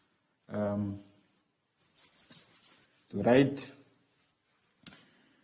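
Numbers written on a board in a classroom lesson, a short scratchy run of strokes between bursts of a teacher's speech, fairly quiet, with a brief tap near the end.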